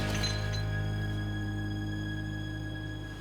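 Tempered windshield glass on a 1969 Camaro shatters, a quick burst of crackling and tinkling that fades into a faint lingering ring over a steady hum.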